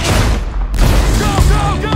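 A gunshot during a hostage-rescue raid in Battlefield Hardline: a loud, close, heavy crack-boom that cuts through dense background noise partway through, followed by a rumbling tail and faint voices.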